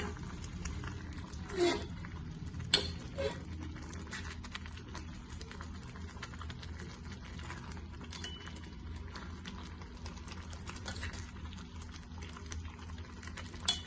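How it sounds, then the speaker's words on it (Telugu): Tamarind pulp simmering down into a thick paste, a low continuous bubbling and plopping close up with a couple of sharp pops, quiet overall and with no talk. "ఇది బాగా దగ్గర పడేంత వరకు ఉడికియాలండి."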